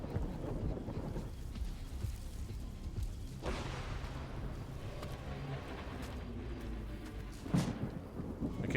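Deep rolling thunder from a lightning storm in the video game STALKER 2, a long low rumble under steady rain and wind, swelling again midway with a sharp nearby crack near the end.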